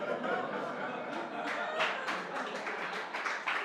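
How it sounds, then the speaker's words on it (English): An audience at a talk on witch hunts and misogyny in Black communities breaks into scattered clapping, a steady patter of many hands at moderate distance that runs throughout with faint chuckles mixed in. "I don't think it's something you should clap for"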